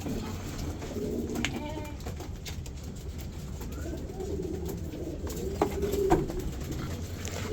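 Imported racing pigeons cooing in a loft, soft repeated coos with occasional wing flutters and clicks, low background hum, and faint voices in the background.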